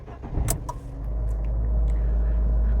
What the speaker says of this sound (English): So start the engine.